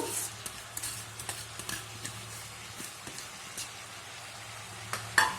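Dantu leafy greens sizzle in a pan for an Andhra-style fry, a faint steady crackle with light stirring taps.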